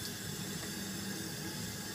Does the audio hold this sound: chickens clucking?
no